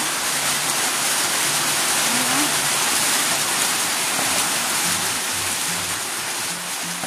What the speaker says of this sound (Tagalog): Yan, umuulan na naman dito.